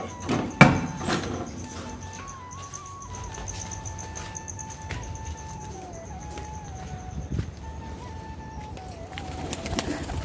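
Pigeons cooing softly against a steady outdoor background on a sunny day, with a few faint knocks and a brief flutter near the start.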